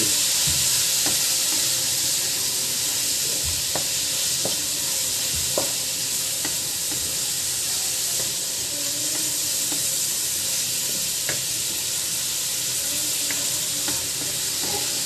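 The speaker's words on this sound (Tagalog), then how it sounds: "so gigisahin din po natin ito hanggang mag-brown" Dinuguan ingredients sauté in hot oil in a pan until browned, with a steady loud sizzle and hiss across the whole stretch and occasional scrapes and clinks of a stirring utensil, no voices.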